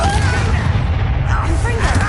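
Incendio fire spell fired during a duel in the video game Hogwarts Legacy, a loud booming burst of flame layered with dense combat noise, with a voice calling out over it.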